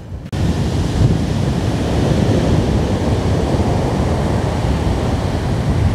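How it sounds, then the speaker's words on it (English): Loud, continuous roar of ocean surf with waves breaking steadily, dense and rushing, with wind buffeting the microphone. "the surf is absolutely pumping today"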